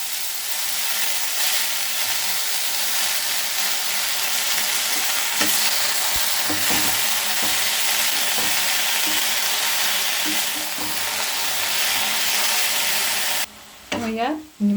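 Leafy greens frying in a pan give a loud, dense, continuous sizzle with occasional clicks of stirring, close up, ending in a brief clatter as the sizzle cuts off.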